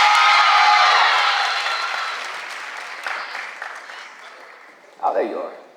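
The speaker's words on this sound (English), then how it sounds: "please give a round of applause to Charlize Ford" Loud audience applause at an 8th grade graduation award at Denzel Washington School of the Arts, swelling at first and then fading, with a short burst of voices and cheering near the end.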